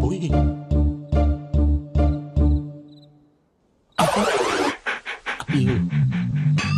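A dog panting in a comedy film scene, with rhythmic, evenly spaced heavy breaths up close, then a sudden loud burst of mixed noise and voices.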